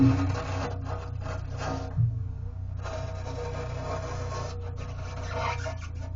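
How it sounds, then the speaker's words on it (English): Old silicone sealant is scraped off aquarium glass with a continuous close rasping, rubbing sound, steady with brief lulls and a small knock partway through. "You can see the old silicone that I'm getting out of here."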